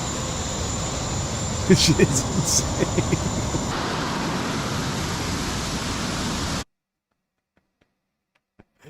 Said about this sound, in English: It's clearly a small jet engine.